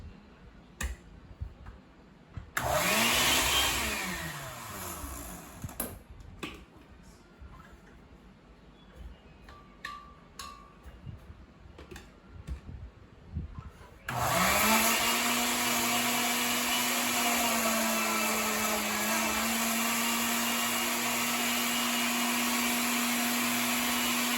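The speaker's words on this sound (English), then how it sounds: "She is pouring them in my blender, those clean stemmed berries, and we need to get those strawberries crushed" A blender crushing stemmed strawberries for jam whirs in two bursts, a brief spin-up then a long loud steady grind, with clicks and clatter in between.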